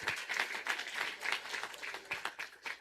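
Short burst of audience applause at the opening of a cultural seminar, scattered hand claps from a moderately sized crowd heard slightly distant and fairly faint.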